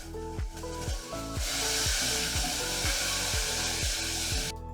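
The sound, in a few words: olive oil and tomato sauce sizzling in a pan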